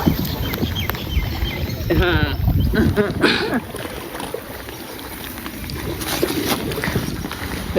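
Water sloshes and splashes in a rhythmic pattern as oars work a boat over flooded fields in rainy-season Bangladesh, close by, with voices talking over the rowing.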